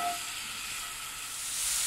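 Strips of bacon frying gently in a little butter for a quiche Lorraine filling, a faint steady sizzle and hiss from the pan, quiet and continuous with no talking.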